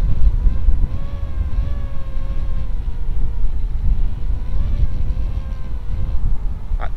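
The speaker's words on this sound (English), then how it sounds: "And there are some gusts coming in now." Steady wind gusting at about 14 to 15 miles per hour roars across an outdoor microphone, a continuous low rumble and buffeting that holds for the whole stretch, with faint tonal whirring riding above it.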